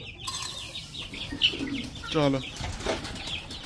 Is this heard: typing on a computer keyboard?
no